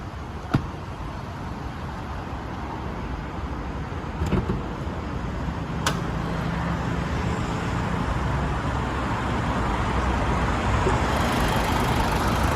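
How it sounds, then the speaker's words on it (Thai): A 2010 Nissan Frontier Navara with a 2.5-litre diesel engine and manual gearbox idles steadily as a broadband rumble, with a few brief clicks and knocks early on and no voices. "และผมขออนุญาตสตาร์ทเครื่องด้วยเลยนะครับ ผม จะได้ฟังเสียงเครื่องนะครับว่าเพราะขนาดไหนนะครับ"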